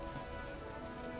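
The Rain spell in the game Divinity: Original Sin 2 produces a steady, soft hiss of rainfall pattering on surfaces, continuous and even throughout, with no voices.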